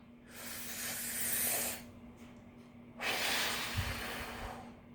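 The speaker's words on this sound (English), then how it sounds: "So we could breathe like a balloon." A person demonstrates deep balloon-style breathing as a group exercise: two long, loud airy breaths, one inhale and one exhale, separated by a brief pause, close and alone with no talk.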